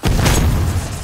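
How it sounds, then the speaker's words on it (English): A stun grenade in a Call of Duty match detonates as a single heavy, close boom that fills the whole clip and trails off slightly at the end. "Load stun grenade."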